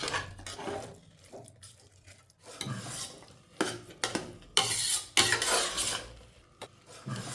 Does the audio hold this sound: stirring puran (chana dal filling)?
yes